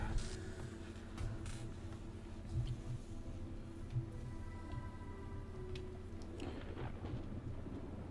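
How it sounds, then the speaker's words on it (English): Rain and thunder from the video game The Talos Principle: a steady patter of rain under low, rolling rumbles of thunder. "Oh, there's the rain. I was wondering when that was going to start."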